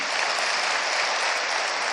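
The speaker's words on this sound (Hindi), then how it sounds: "अपने लिए ताली बजाओ बोले" An audience at a spiritual gathering breaks into steady, dense clapping, loud and even throughout with no voices on top.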